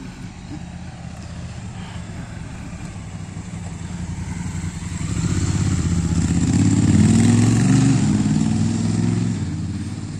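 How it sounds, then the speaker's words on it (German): A motorcycle rides through a sharp curve near Iggelbach in the Pfalz, its engine droning steadily and then swelling louder and rising in pitch as it passes close by. "Axel fährt die Kurve mal."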